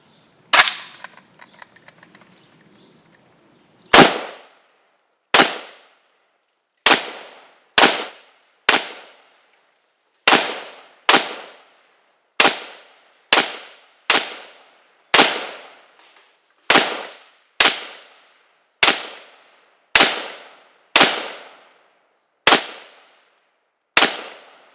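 A budget AK rifle firing single shots at soda cans downrange, about fifteen loud, sharp cracks spaced roughly one to two seconds apart outdoors, preceded by a brief faint rustle, with no talking.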